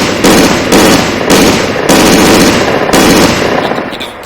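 A deployed MG42 machine gun firing in the IFA3 mod for a video game: loud, rapid bursts of automatic fire, about five back-to-back volleys with short gaps, close and harsh, tailing off at the end.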